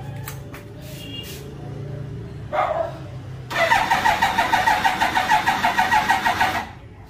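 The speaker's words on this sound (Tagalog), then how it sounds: "start muna natin itong ZX-9R natin, itong Ninja Kawasaki." A Kawasaki Ninja ZX-9R motorcycle with a weak, low battery is cranked: a brief starter whir, then a loud, sustained rhythmic starter churning for about three seconds that stops without the engine catching, close by and without talk.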